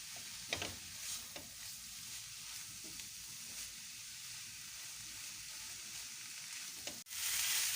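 A filling for Ramadan pastries fries in a pan with a continuous soft sizzle, broken by occasional stirring scrapes, then a louder, hissier burst near the end.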